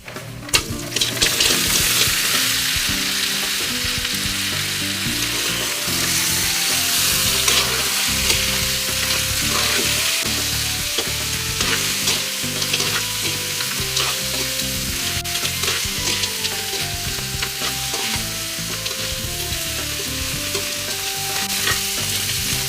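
Crab pieces frying and stirred in hot oil with browned garlic, a loud, steady sizzle with scraping stirs running throughout, no talking.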